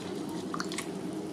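Lemon juice, squeezed from half a lemon, drips into an orange-juice salad dressing for a pasta salad; a few soft, brief drips sound over a steady low background hum.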